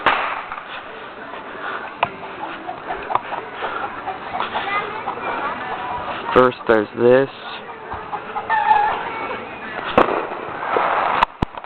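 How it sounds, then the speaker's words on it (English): Sharp firecracker pops burst irregularly among rooster-like crowing and clucking, with a person speaking briefly at the start. "we have like all these firecrackers go off."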